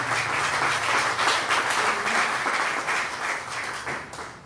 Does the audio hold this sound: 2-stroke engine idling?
no